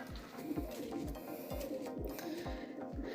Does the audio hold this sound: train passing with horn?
no